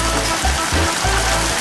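Heavy rain from the start of a tropical storm in Mérida, Yucatán, a steady broadband wash of downpour with low rumbling gusts, continuous and close, with no voices.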